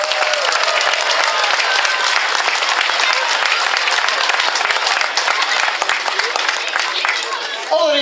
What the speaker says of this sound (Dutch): Daar hoort wel een passend applaus bij voor Remco Grasman.